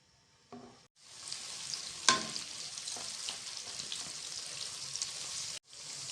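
Onions fry in hot oil toward a light pink shade for a mixed vegetable dish, a bright, steady close-up sizzle that starts abruptly, carries one sharp crackle, and runs on alone without talk.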